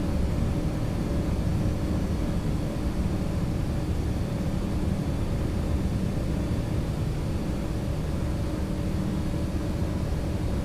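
Antonov An-225 Mriya airplane engines in Microsoft Flight Simulator, a steady, dense cockpit drone with a faint tonal hum running unbroken and loud throughout, with no talk.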